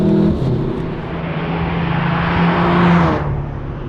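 A VW Golf 7 R hot hatch launches hard from a standstill, its loud engine note roaring steadily close by for several seconds before easing slightly at the end.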